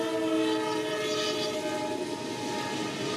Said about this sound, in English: I can hear the horn from the engineer blowing.